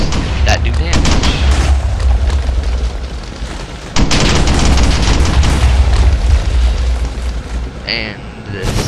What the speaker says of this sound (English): It has M230 chain gun heat rounds that do damage.